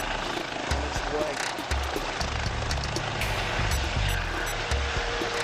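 A helicopter in flight gives a steady, loud, droning rotor rumble with a low throbbing beat that continues throughout without a break.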